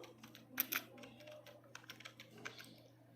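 Quiet computer keyboard typing a short phrase while writing C code, with a quick cluster of key clicks near the start and lighter scattered taps afterward, heard alone over a faint steady hum.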